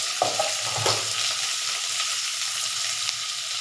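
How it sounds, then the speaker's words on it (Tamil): Garlic cloves, a piece of ginger and dried red chillies sizzle steadily in hot oil in a pan, a continuous frying hiss with a few soft stirring scrapes near the start and no voices. "இதை நல்லா வதக்கி எடுத்துக்கலாம்"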